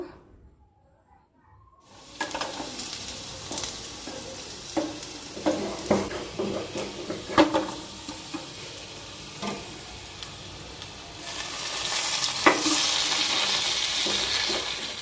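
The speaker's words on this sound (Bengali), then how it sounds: "এবার আলুগুলোকে একটু লাল লাল করে ভেজে নেব" Salted potato pieces fry in oil in a pan. After two seconds of near silence a steady sizzle starts, with repeated sharp scrapes as they are stirred, and the frying grows louder near the end.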